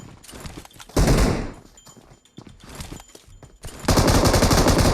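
Automatic weapon fire bursts out in PUBG Mobile, two loud sustained volleys of rapid shots separated by quieter footsteps and thumps, the second burst continuing to the end.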